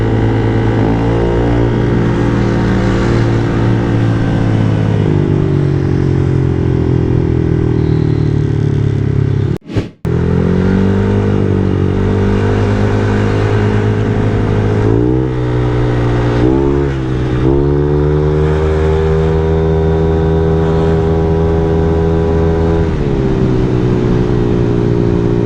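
Honda Click i125 scooter with a JD Racing dual-tip exhaust, riding on the road: a steady loud engine drone with rising and falling revs as it accelerates and slows, a brief dropout near the middle, no talking.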